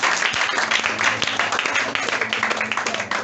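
A church congregation at a French-language Sunday service applauds the Lord, loud close clapping from many people that turns into distinct, fairly rhythmic claps toward the end.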